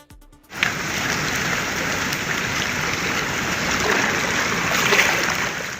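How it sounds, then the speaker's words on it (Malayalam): Heavy monsoon rain in Kerala, after days of continuous downpour, is a loud, unbroken hiss of rain on surfaces. It starts abruptly after a brief quiet moment and holds steady, with no talking. "4 ദിവസമായി പെയ്യുന്ന മഴയാണ്"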